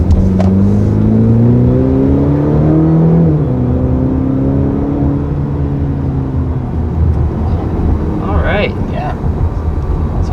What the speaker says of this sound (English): First taking off here in the CT4, we have the standard 2-liter turbo 4-cylinder engine.